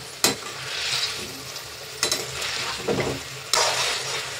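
A spicy potato snack is stirred in a hot pan as its gravy cooks down to dry, giving a steady close sizzle broken by a few sharp scraping stirs, with no talking.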